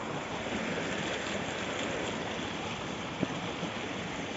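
Flowing water pours into a rice paddy at planting time, a steady close rush with one brief knock partway through.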